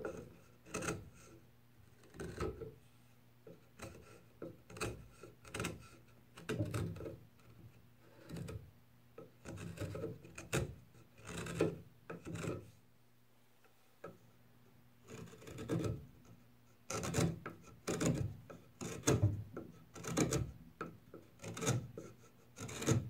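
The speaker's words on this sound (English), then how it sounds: "So let's cut that and grind it out with the Dremel." A Dremel rotary tool cuts and grinds the top of a wooden walking stick in short, repeated rasping bursts over a faint motor hum, with brief pauses between passes. The sound is close and quiet, with no speech.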